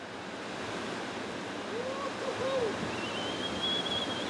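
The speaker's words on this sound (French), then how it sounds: "dans les vagues bretonnes parfois fortement inhospitalières de la côte sauvage de la presqu'île de Quiberon" Surf breaking along the wild Atlantic coast of the Quiberon peninsula in Brittany, a steady, dense wash of wave noise with no voices, fairly faint and continuous throughout.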